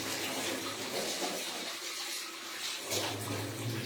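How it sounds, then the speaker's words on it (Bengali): Tap water runs steadily while shrimp are washed in a kitchen, a continuous close splashing hiss with no talking. "বাঁশটা ধুতে হবে, চিংড়ি মাছটা ধুতে হবে"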